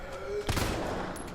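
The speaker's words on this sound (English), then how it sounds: "Just wasted 3 mag shots trying to hit that bastard" A single heavy magnum shot fired in Resident Evil 3, a sharp crack followed by a short decaying tail, fairly faint amid quiet game ambience.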